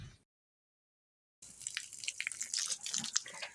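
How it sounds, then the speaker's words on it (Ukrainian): Water runs gently from a hose into a pail, a soft continuous splashing trickle that begins after a brief silence. "Тепер беру прямо шланга водичку легенько, так, щоб сіль не вимивалася"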